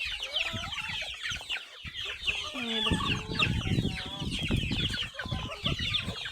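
Village chickens being fed crushed maize cluck busily at close range, many overlapping calls and scratching sounds, fairly faint, with no talk.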